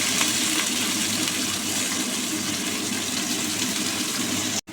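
Prawns frying in hot oil in a wok give a loud, steady, dense sizzle that fills the whole stretch without letting up and cuts off abruptly at the very end, with no voices.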